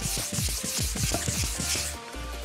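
Wet sandpaper, about 800 to 2000 grit, rubbing rapidly back and forth across a yellowed BMW plastic headlight lens in a steady, close, rasping rhythm.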